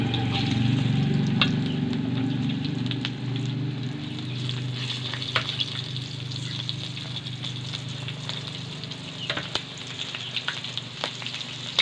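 Ginabot pork pieces frying in a pan until crispy, a steady, close sizzle and bubbling of hot oil running throughout with occasional sharper pops and crackles, no voices.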